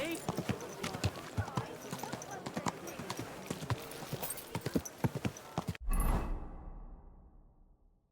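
Horse hooves clip-clopping at a slow walk in the game Kingdom Come: Deliverance II, a steady run of close hoof beats with voices talking over them, then a sudden whoosh and a fading rumble.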